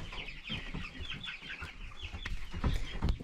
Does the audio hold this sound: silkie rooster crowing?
yes